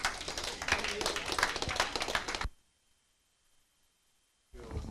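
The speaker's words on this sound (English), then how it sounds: "So big applause for Rob and Will from Shipit," An audience claps to welcome two speakers at a business growth talk night: dense, fairly loud applause for about two and a half seconds, then near silence, then a voice begins at the end.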